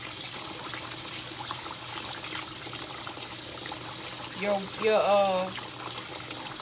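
Water pours and trickles over rinsed rice in a container for making rice-water fertilizer, a brief louder splashing burst near the end amid steady background, with a voice speaking.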